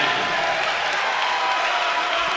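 A basketball arena crowd at a Temple versus ECU game cheers and applauds steadily as number 21 checks in, a continuous broad roar of many voices throughout.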